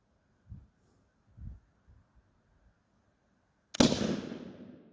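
A single loud, sharp black powder .44 NMA magnum revolver shot cracks out late, followed by a long decaying boom and rumble, after a few faint low thumps.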